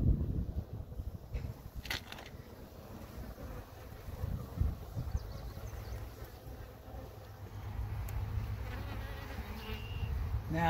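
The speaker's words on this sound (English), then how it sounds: "how calm these Russian bees are" Russian honey bees buzz around an open hive during an inspection, a quiet, steady hum with individual bees droning close by now and then, faint wind in the background.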